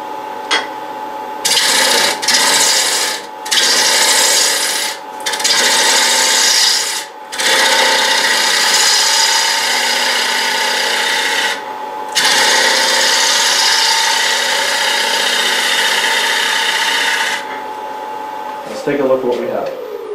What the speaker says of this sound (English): We'll start up the lathe.